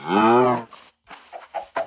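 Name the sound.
cows mooing in a video game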